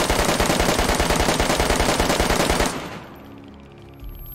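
Rapid automatic gunfire in DayZ rattles in a fast, steady stream for nearly three seconds, then cuts off and leaves quieter ambient game sound.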